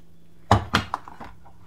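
A cooking pot of shrimp maklouba, layered with rice, is flipped onto a plate to unmould it. Two sharp thunks land close together, followed by a lighter clink and a few faint knocks in a quiet kitchen.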